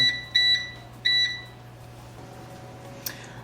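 Electronic kitchen timer beeping in two quick double-beep bursts, loud and close, over a steady low hum, then quiet.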